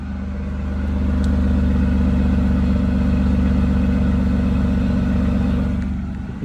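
A Toyota Land Cruiser's 4.5-litre 1FZ-FE petrol engine idles close by with a steady low throb, swelling slightly and then settling, with no talking.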